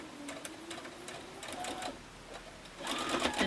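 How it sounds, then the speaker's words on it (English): A sewing machine stitches rows of a quilt block together, its motor whirring in quick bursts with short pauses between, close and fairly steady, building louder toward the end. "I'm going to finish sewing these rows together"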